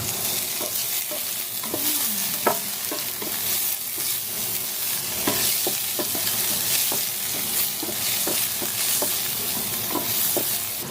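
Garlic, onion and chili stir-fry in a hot pan for Cebu-style cooking, a steady loud sizzle broken by repeated scraping taps of a spatula, close by and with no talking.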